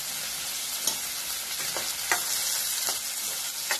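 Turmeric stirred into hot oil in a pan over high heat, a constant close sizzle broken by several sharp spoon scrapes at uneven intervals.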